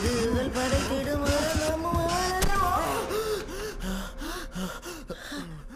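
A man pants heavily in quick, repeated gasping breaths, close and loud, running throughout under background music and some other voices.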